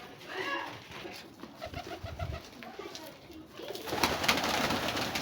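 Pigeons coo in soft, rhythmic low phrases outdoors, fairly near, with wind and rustling background noise rising toward the end.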